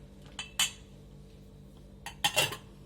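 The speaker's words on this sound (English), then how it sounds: "Give it a stir" A spoon clinks against a pot of ginger tea in two short bursts of metallic taps and scrapes, close and clear over a quiet background with no talking.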